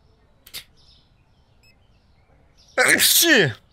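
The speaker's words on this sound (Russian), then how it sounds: "Сейчас чихну!" One loud, explosive human sneeze bursts out after a few seconds of near silence, preceded only by a faint brief click.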